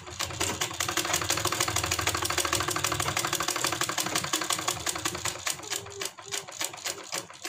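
A sewing machine stitches a kurti seam, its fast, even mechanical clatter running steadily and close for several seconds, then slowing briefly near the end.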